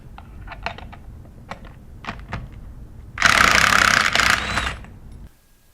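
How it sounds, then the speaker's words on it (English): A 3/8 inch electric impact gun spins off the bolts of a discharge manifold assembly on a Sandpiper diaphragm pump, a loud buzzing hammering burst lasting about two seconds, preceded by scattered clicks and handling taps. "we're going to use a 3/8 inch electric impact gun"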